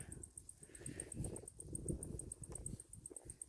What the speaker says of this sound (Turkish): Yine cırcır böceklerinin sesi.